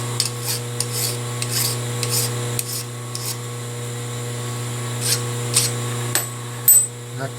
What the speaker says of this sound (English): Deburr all the way around so I don't slice my finger open handling it.